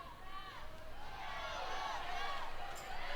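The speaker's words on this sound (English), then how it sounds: "You can hear the crowd chirping" Softball crowd noise during a college game between Ole Miss and Georgia: a steady murmur of fans with scattered whistles and chirping calls rising over the babble, continuous and moderately distant throughout.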